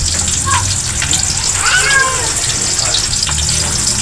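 Hot cooking oil hisses and spatters steadily while dried fish (daing) fries in a pan, a dense close crackling sizzle running throughout with scattered louder pops.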